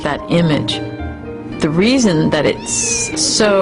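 A cat meows repeatedly in loud, wavering cries, close to the listener, with short pauses between calls.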